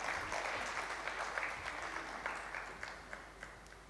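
An audience at an Arts Council of Pakistan tribute event in Karachi applauds, a dense, continuous patter of clapping heard from a moderate distance that gradually thins and softens toward the end.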